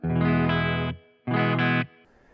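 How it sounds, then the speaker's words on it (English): Electric guitar played through a Boss Katana amp with reverb on, giving two loud sustained distorted chords, each cut off abruptly, with a short reverb tail after the second. "I have a reverb that's selectable for some tones,"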